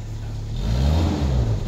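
A 2000 Daihatsu Taruna CSX car engine revs steadily up close, a low rumbling roar that swells slightly and holds, with no talk over it.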